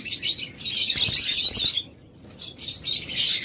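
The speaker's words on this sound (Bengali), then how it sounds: "চমৎকার এই স্প্লিট অপালাইন স্প্লিট ব্লু পাখিগুলো" Split opaline split blue budgerigars chirp and chatter constantly in a busy, high-pitched flock, with a brief pause and soft wing flutters close by.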